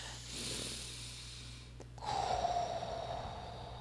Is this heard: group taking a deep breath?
yes